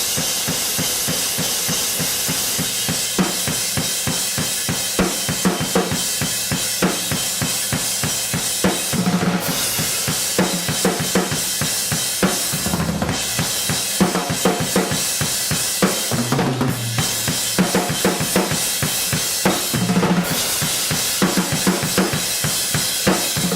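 Full drum kit playing the middle-eight section of a song, loud and continuous, with dense rhythmic hits and cymbal wash, a few heavier accented fills, and no talking.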